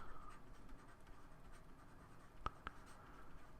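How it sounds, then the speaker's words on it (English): A pen writes out a calculus continuity question, a steady faint scratching on paper throughout with a couple of sharper taps near the end, quiet and close with no talking. "I should actually write it down, though."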